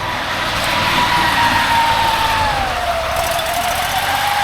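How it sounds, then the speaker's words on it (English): A contractor's leaf blower clears leaves and debris off a walking path, a loud continuous whine over rushing air whose pitch sags slightly partway through. "It pays those contractors to blow the leaves and debris off these walking paths."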